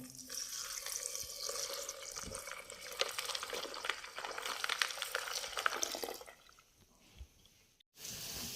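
Water pours steadily into a bowl of herbal shampoo ingredients, including nigella seeds, for several seconds, then stops, leaving a quiet stretch with a few faint drips and a small knock.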